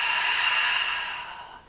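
A long, airy exhale during yoga breathing practice, a soft steady breath out that fades gradually toward the end, close and alone without speech.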